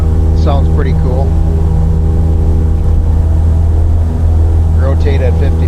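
Cessna 172 piston engine at full throttle in the MSFS 2020 flight simulator with an add-on sound package, a loud steady droning hum throughout, with voices talking briefly over it.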